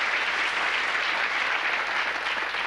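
Steady, dense applause from a TV game show studio audience, even and continuous with no talk over it.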